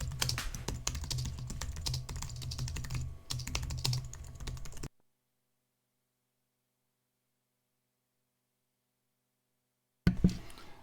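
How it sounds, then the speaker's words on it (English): Fast, dense typing on a computer keyboard during a game development live stream, close and continuous for about five seconds, then silence before a brief final burst of keystrokes. "she was hammering on the keyboard. I type fast, sorry."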